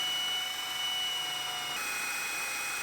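Drill fitted with a 5/16 bit cutting through the first of three welded body panels on a rebuilt Terrain, a close, continuous high whine that shifts in pitch partway through as the bit bites.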